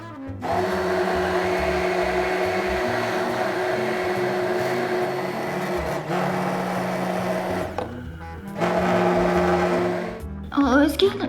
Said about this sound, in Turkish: hepsini mikserle karıştırıyoruz